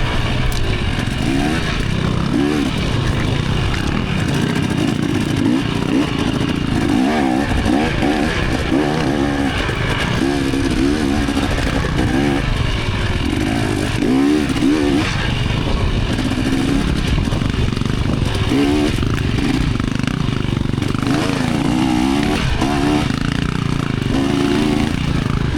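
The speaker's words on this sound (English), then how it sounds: "I couldn't imagine spending my Sundays without racing my dirt bike" Dirt bike engines at a mud race: several motorcycles rev and bog continuously, loud and close, with throttle surges rising and falling throughout and no clear talk.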